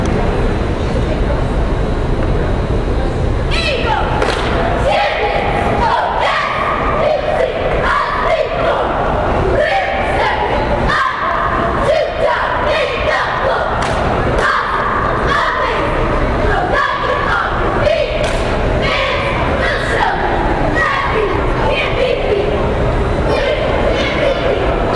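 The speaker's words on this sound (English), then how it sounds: "The Beekmantown cheering squad on the floor at this time." Cheerleading squad chanting in unison on the floor during a high school boys basketball final between Beekmantown and Plattsburgh, loud rhythmic shouted cheers over a steady gymnasium crowd roar, sustained throughout.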